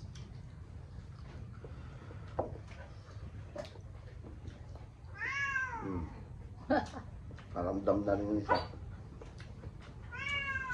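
Several cats meow loudly and insistently close by, rising drawn-out cries in bursts, while a person speaks briefly in the background.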